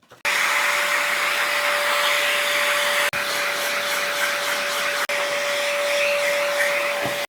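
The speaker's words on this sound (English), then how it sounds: "At this point, I like to hoover." A vacuum cleaner hoovers up a guitar-building workshop, running loudly and steadily close by with a constant whine, cutting briefly twice before resuming, no talk over it.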